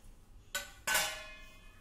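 Peanuts poured into a mixer jar, two quick rattling clatters of nuts hitting the container, the second louder and ringing briefly.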